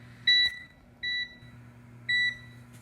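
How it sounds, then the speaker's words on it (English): A kitchen oven timer being set for pizza baking at 400 degrees gives three short, loud electronic beeps, spaced about a second apart, over a low steady hum. "I like to set a timer"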